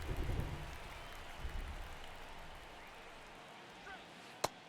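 Rain falling on a ballpark during a Blue Jays at Cardinals season opener in St. Louis in the video game MLB The Show 23, a soft steady hiss with low rumbles early and a sharp click near the end.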